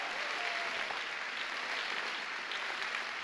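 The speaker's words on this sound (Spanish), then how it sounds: "Dele fuerte ese aplauso a Dios." Church congregation applauding during a Sunday morning service, steady dense clapping that fills the whole stretch at an even level.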